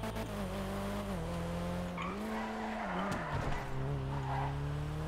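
A car in GTA 5 drifts, its engine droning loudly as the pitch sweeps up and down, with a rough tire squeal and skid noise rising midway through.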